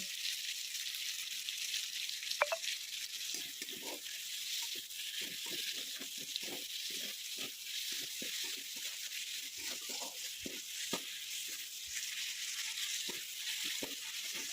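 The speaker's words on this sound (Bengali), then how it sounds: "তারপর এক একে টমেটো কুচি এবং পরিমাণ মতো একটু লবণ দিয়ে মশলাটাকে ভালো করে কষিয়ে নেব।" Masala of green chilli, chopped tomato and salt frying in a pan for a potato dum recipe, a steady close sizzle with scattered soft pops and stirring scrapes throughout.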